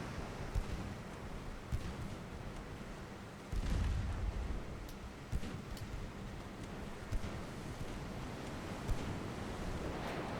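Torpedo hit in the naval video game Dreadnought: a deep, heavy boom near 3.5 seconds over a constant wash of sea and engine noise, with faint clicks scattered through.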